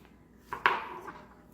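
A knife cuts plantain into smaller pieces, giving two quick, close chopping knocks in quick succession, then the sound fades away.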